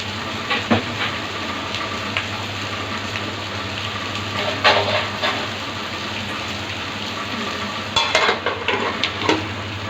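Okra (lady finger) pieces fry in a pan with a steady, close sizzle, broken by occasional scraping stirs and clinks of a utensil around the four- and eight-second marks, with no talking over it.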